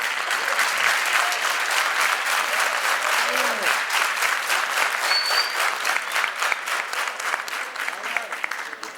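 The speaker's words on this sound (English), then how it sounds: "You can clap when you are sitting down also." An audience at a college debate competition claps steadily and loudly for several seconds, dense continuous clapping with occasional cheers and voices mixed in.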